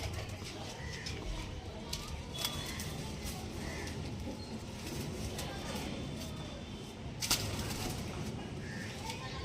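Domestic pigeons let loose inside a room, with scattered coos and light fluttering over a constant noisy hum and occasional voices, plus one brief sharp burst near the end.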